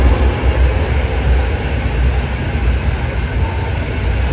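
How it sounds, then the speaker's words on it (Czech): A train rumbles past alongside the Elbe river, a loud continuous low roar that swells and eases slightly across several seconds with no talking. "Vlaky na laby."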